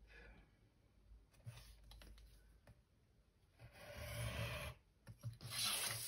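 Paper being cut for a scrapbooking mailbox, with soft close rasping and scraping strokes in uneven bursts, louder toward the end.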